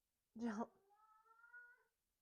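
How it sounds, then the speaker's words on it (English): A pet cat meows loudly for attention indoors: one sharp, close cry followed by a long, drawn-out wavering meow that fades after about two seconds. "Sorry if you can hear my cat Teddy."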